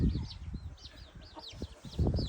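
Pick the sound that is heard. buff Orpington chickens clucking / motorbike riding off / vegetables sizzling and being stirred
buff Orpington chickens clucking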